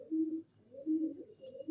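An old Madrasi pigeon with fine red eyes gives soft, low cooing calls in three rhythmic phrases, close and gentle, with a faint chirp in the background.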